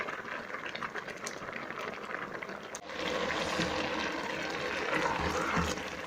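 Cow's milk with ground green cardamom seeds bubbles and simmers in a pot as it reduces for carrot halwa, a steady close bubbling hiss that swells louder midway.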